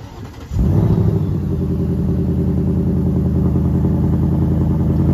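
A 2024 Ford Mustang GT V8 engine starts by remote start after a second of quiet, firing with a sharp burst and then settling into a loud, steady, rumbling idle heard up close.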